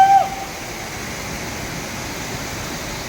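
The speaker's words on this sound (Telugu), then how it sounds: "ఇటు సైడ్ దేవకుండ వాటర్ ఫాల్ ఉంది." Devkund waterfall in Maharashtra, a steady broadband rush of falling water filling the scene evenly and continuously, with a brief tonal sound at the very start.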